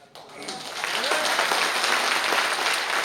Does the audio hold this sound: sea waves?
no